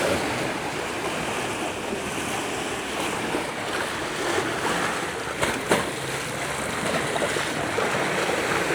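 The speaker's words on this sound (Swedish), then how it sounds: "Ja, detta är alltså Lake Como" Water washes continuously against the shore of Lake Como, a close, broad rushing wash with light wind buffeting the microphone and no one speaking.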